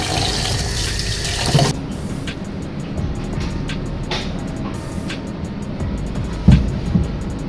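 Fish being washed aboard a ship at sea off Oman, with a strong burst of running water at the start, then quieter splashes and handling sounds over a steady background hum.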